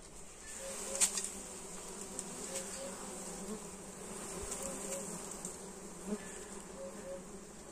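Bees hum steadily around a nest near a house, a continuous close buzz with a few louder passes by single insects and no talk.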